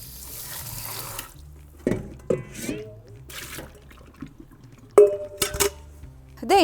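Lentils being rinsed at a kitchen sink: bursts of running tap water splash and trickle, with a few clinks of a pot or utensil and short quiet gaps, close by with no talking.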